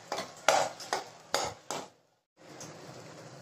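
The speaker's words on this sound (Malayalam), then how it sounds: "നന്നായിട്ട് ഇതുപോലെ മിക്സ് ചെയ്യാം" Ground mustard and fenugreek masala being mixed into gooseberry pickle: a few sharp, close scrapes and clinks of a spoon in a bowl, then a brief pause and a softer rustle.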